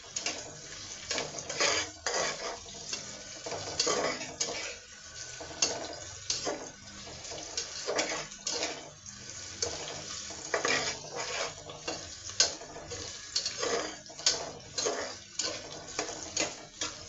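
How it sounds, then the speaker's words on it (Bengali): Green chilies frying and being stirred in a pan for a Bikrampur-style bouya bhorta, with steady sizzling broken by repeated clinks and scrapes of a utensil against the pan, close and without voices. "ভালো করে একটু ভেজে নিব"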